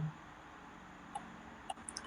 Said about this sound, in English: I'll double click on this text box